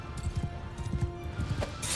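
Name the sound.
horses galloping through troops in video game Mount & Blade II Bannerlord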